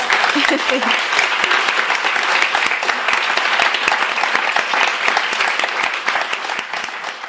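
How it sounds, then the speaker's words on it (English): Sustained, dense applause fills a bookstore after an author's reading, loud and even throughout before easing slightly at the end. "let's give Emma an enormous round of applause"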